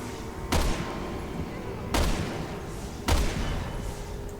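Three loud, booming gunshots in the video game Resident Evil 6 ring out about a second apart, each with a sharp crack and a long echoing tail over constant background noise.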